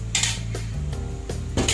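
A spoon scrapes sauce from a blender jar, several scraping and clinking strokes against the jar over a constant loud background hum, close to the microphone.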